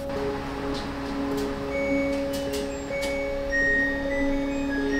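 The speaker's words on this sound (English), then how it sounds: "That's the laundry machine, guys, not the audio" A laundry machine beeping indoors, a few short high electronic tones over a steady low hum, moderately loud with no talk.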